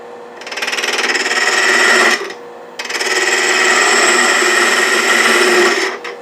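A 3/8 inch spindle gouge cuts a wooden tulip spinning on a lathe, a steady close hiss and whir in two long passes separated by a short break, with no talk.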